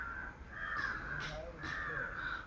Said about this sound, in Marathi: हा कर्कोचा पक्षी आहे असं म्हणतायत, माहिती नाही नेमका, पण खूप मोठा आवाज काढतो